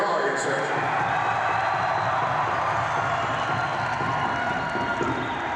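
A concert audience in Peoria cheers and shouts in a dense, continuous roar with some clapping, loud and steady throughout, a crowd-wide wash of voices rather than a single speaker.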